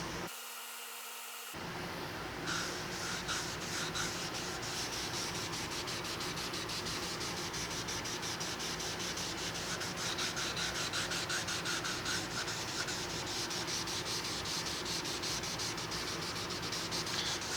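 A cloth rubs leather dye into a Tele guitar body with steady, close, rapid scrubbing strokes that continue evenly after a brief quiet start, with no voices.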